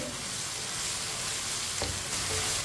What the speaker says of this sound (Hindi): 1 चम्मच कुटा हुआ लहसुन को भी 1 मिनट के लिए पका लेंगे